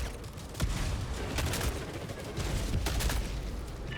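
An orbital strike barrage in Helldivers 2 pounds away as a continuous, dense roll of loud explosive blasts and booms with distinct sharper hits, with faint voices now and then.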